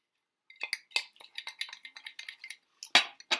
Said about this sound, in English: The next thing we're going to do is stir this.